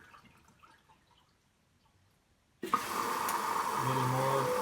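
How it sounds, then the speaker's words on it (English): Water comes into the drum of a Candy washing machine. A near-silent stretch with faint drips ends in an abrupt, steady rush of water filling the drum, continuous and fairly loud. "Now there's water coming in. You can see it dripping in there in the middle."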